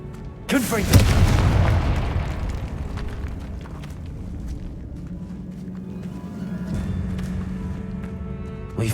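Spell blast from the Confringo fire curse in Hogwarts Legacy, set inside a tomb: a heavy, booming burst near the start that rolls off into a long rumbling tail, with a low sustained hum afterward.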